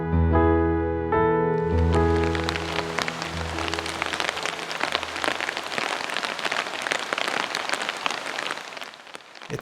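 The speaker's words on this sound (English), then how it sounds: "It started to rain" Steady, dense rain patters on a backyard pergola, filling the scene with close, continuous hiss and drip, after a brief sustained tonal passage at the start.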